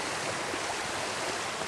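A creek runs beside a summer campsite on a hot day, giving a steady, close rushing wash of water that holds even from start to finish with no voices.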